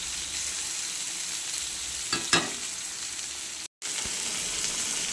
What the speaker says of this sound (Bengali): বেগুনটা ভেজে নিচ্ছি,